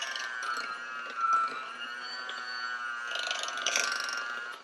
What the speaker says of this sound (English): I hope that you guys can hear this over the mixer